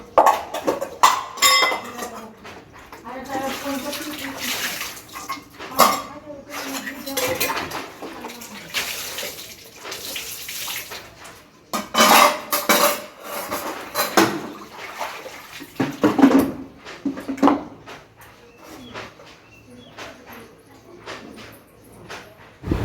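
Dishes, pots and utensils being scrubbed and rinsed at a household tap, with irregular clanks and scrapes of metal ware, splashing water, and intermittent voices and other household noise around.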